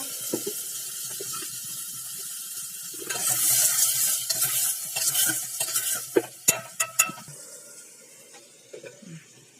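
Onions and other chopped ingredients for a village-style fenugreek kuzhambu sauté in oil in a pan with salt, giving a steady sizzle with scraping stir strokes and a few sharp clinks of a spoon against the pan toward the end.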